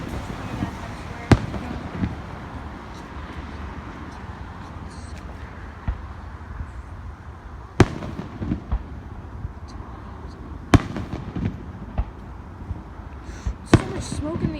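Fourth of July fireworks burst at a distance over a city, several sharp booms and crackles spaced irregularly over a steady rumble of crowd and city noise, with people talking nearby.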